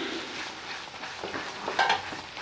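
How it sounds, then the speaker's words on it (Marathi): Red chili powder, turmeric and masala roasting in a pan for corn curry, a soft steady sizzle with a few light stirring scrapes and a brief clink, close by and fairly quiet. "छान मस्त मसाला भाजून घ्यायचा आहे।"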